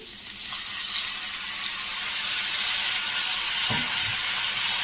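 Water splashed into a hot pan of jackfruit curry on a raised flame, giving a steady close broadband sizzle throughout with a brief hiss burst near the end as liquid hits the pan.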